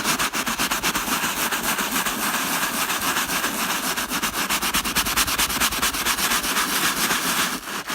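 A small brush scrubs cleaning solution into the vinyl upholstery of a Mastercraft wakeboard boat, producing a loud, close, continuous rhythmic rubbing that quickens toward the end, with no speech.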